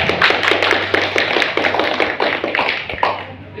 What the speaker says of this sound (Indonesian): Saya kepingin memberikan aplaus kepada Pak Abdullah